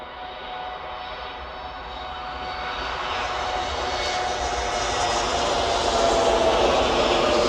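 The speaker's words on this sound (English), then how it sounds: "we've got a Dreamliner taking off" A Boeing 787 Dreamliner taking off at Manchester, its jet engines roaring from a distance and swelling steadily louder and brighter as it climbs.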